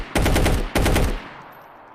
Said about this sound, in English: See, Bozar is pretty iconic. Sounds like that, right? Fully auto